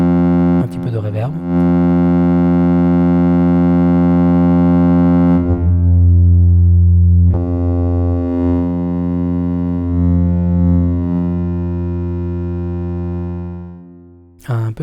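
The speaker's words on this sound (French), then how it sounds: "Un petit peu de reverb." A 4ms Spherical Wavetable Navigator wavetable synthesizer with reverb plays a sustained, harmonically rich drone that swells and shifts timbre midway, then slowly fades, with brief speech at the start and end.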